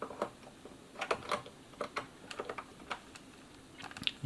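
Keys clatter on a Dick Smith Wizzard computer keyboard, a quiet run of irregular plastic taps and clicks close to the microphone with no talking.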